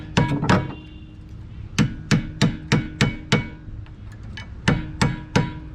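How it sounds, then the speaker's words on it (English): Sharp metallic hammer taps knock at seized brake caliper pins during a rear brake job on a 2016 fourth-generation vehicle, landing in uneven clusters of close, distinct blows with short pauses between them. "I'm going to have to knock that out with the hammer"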